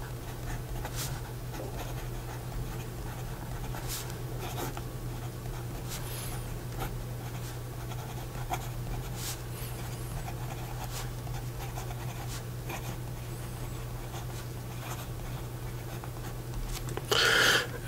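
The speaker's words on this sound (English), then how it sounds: "So, here we go with the rest of the writing sample." A Lamy Aion fountain pen with a medium nib writing on paper, soft close scratching strokes repeating irregularly over a steady low hum, with a brief louder rustle near the end.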